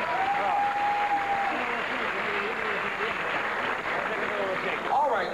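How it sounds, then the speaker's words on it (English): Pageant audience at Miss Florida FI 1999 applauding aria singer Mr. Terry King, sustained crowd clapping with cheers and a whistle, while voices are heard talking over it. "I'd like to give him a round of applause."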